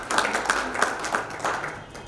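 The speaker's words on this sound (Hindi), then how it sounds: "जोरदार तालियां" A handful of people clap at a Hindi book release event, a sparse, uneven patter of close hand claps in a steady rhythm, with no talk.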